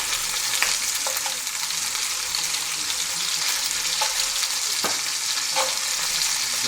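Pieces of lamb for a navarin brown in a hot pan, giving a steady, loud sizzle and crackle with occasional faint clinks and stirring scrapes, with no voices.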